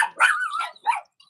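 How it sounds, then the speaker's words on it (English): Dog barks and yips in a short burst, two or three close, fairly loud calls with a slight whine between them, alone with no talking. "You know who it is when they start barking."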